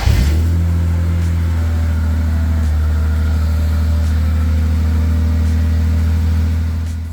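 A BMW E36 engine starts up in a workshop: a sharp crank and catch, then a loud, close, steady idle hum that holds evenly and eases slightly at the end.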